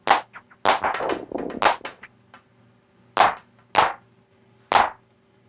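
Arturia DrumBrute drum machine claps fed through a guitar delay pedal: sharp broadband hits trailing into decaying, dubby echo repeats, with a dense cluster early and three spaced, isolated claps afterward.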